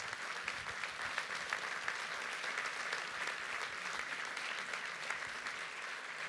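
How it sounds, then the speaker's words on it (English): A large audience claps continuously at an aircraft delivery ceremony for Qatar Airways' first A350-1000, a dense, even wash of applause filling the hall throughout. "And I think that deserves a big round of applause."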